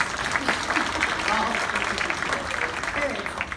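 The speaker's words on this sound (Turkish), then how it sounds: "Kesinlikle alkışlarım geldi." Audience applause at a university donation gala welcomes the host, a dense, steady patter of clapping filling the room from start to finish, with voices talking underneath.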